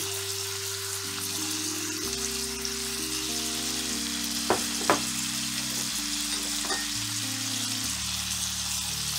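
Seasoned shrimp fry in a pan with black pepper, garlic powder and salt, giving a steady close sizzle throughout with a few brief sharper pops near the middle and no talking.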